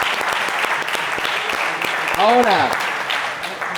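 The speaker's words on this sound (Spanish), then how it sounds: "Ok, equipo, un aplauso" Team applause at a debate on high versus low training frequency, steady clapping from a small group with a voice speaking briefly over it midway.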